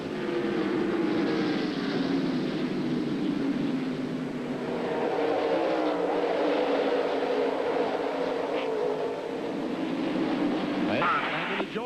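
NASCAR stock cars race at the 1998 Moore's Snacks 250, a steady loud engine roar sweeping past without a break, with a commentator talking over it.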